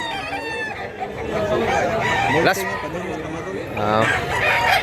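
Roosters at a gamecock sale in Mantalungon, Barili, Cebu crow and cluck repeatedly and loudly, one crow after another, while someone talks throughout.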